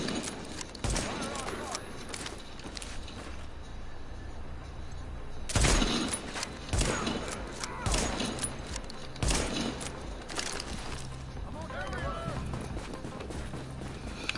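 Shooting at enemies in The Division's survival mode, with scattered gunshots and short bursts rising out of a busy game soundscape, some louder cracks in the middle, while someone talks over much of it.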